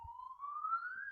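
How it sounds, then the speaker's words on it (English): A police siren wails faintly in the distance, a single rising tone drawn out over about a second beneath a quiet room. "Don't mind the sirens."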